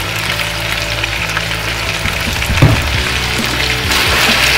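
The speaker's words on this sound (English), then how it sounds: "Fry it on high flame for 10 to 15 minutes." Chicken fries in a modest amount of oil over a high flame, a loud, close, continuous sizzle and crackle with occasional stirring clatter and no talking.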